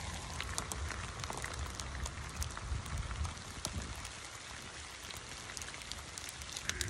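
Steady rain patters and drips on surfaces outdoors at a campfire site in cottonwood trees, a dense, even hiss with scattered sharper drops throughout.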